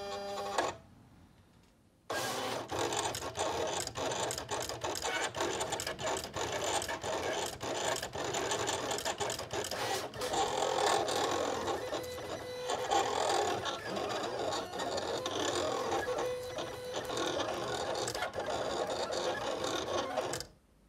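A Silhouette cutting machine runs continuously for about 19 seconds as its sketch pen draws a design on heavier cardstock, giving a steady whirring, scratching mechanical drone with small rhythmic shifts, close and alone after a brief quiet start.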